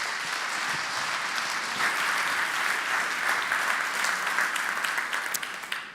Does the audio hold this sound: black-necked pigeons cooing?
no